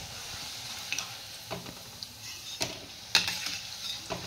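Noodles frying in hot oil over a high flame, a soft continuous sizzle broken by several sharp clacks and scrapes of a utensil as they are stirred and flipped in the pan, close up and quiet, no voices.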